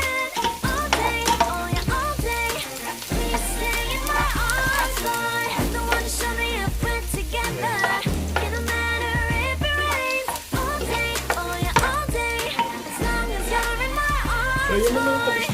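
Garlic sautéing in hot cooking oil while cabbage and potato are being prepared, a steady soft sizzle with stirring scrapes under continuous background music.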